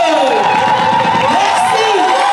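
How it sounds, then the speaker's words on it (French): Cheering and whoops from a crowd of guests at a 50th birthday dance party, loud and continuous with shouts and voices throughout. "Allez, applaudissez un peu"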